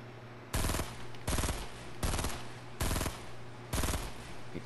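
A rocket launcher fires in the Fortnite battle royale game. Five loud, sharp blasts come at a steady pace about three-quarters of a second apart, each followed by a short rattling tail over a quiet game background hum.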